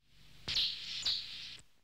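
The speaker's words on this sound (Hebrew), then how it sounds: "לכל ציוץ יש משמעות ייחודית משלו. לדוגמה, ציוץ C של שקירה נשמע כשהיא מתקרבת לאוכל" Cotton-top tamarin monkey gives a high, thin chirp call, two quick bright chirps in succession, close and clear with no talking.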